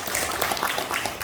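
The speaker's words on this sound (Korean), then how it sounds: "뜨거운 박수로 청해 듣겠습니다" A short burst of audience clapping greets a discussant at an academic conference, dense and fairly loud, heard alone without speech.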